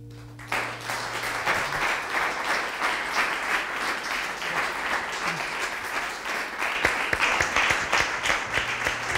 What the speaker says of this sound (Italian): già che siete nell'applauso, eh, l'allunghiamo anche per Alessandra che sta leggendo